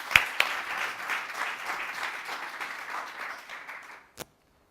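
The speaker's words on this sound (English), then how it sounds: "So a round of applause for Toby." An audience at an advertising effectiveness publication launch breaks into applause, a dense burst of clapping that swells and slowly fades over about four seconds before stopping.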